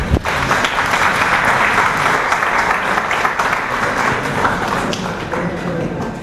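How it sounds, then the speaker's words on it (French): An audience at a literature festival in Dakar applauds, giving sustained, dense clapping that fills the hall loudly and evenly from start to finish, with a soft thump right at the beginning. "Sous vos applaudissements, s'il vous plaît."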